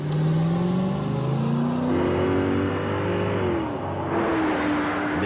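Lincoln Mark VIII luxury coupe with a 32-valve 280-horsepower V8 revving, a loud close engine rising in pitch through the gears with a brief dip before climbing again, no talk.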